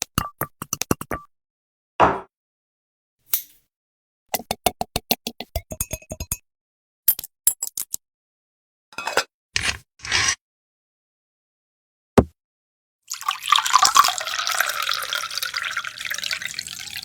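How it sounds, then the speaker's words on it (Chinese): Rouge plum-infused liquor, uncorked and filtered into a large vat: scattered clinks, drips and taps separated by silence, then a steady close pour of liquid running for the last few seconds. "胭脂梅泡酒，开封过滤到大桶后"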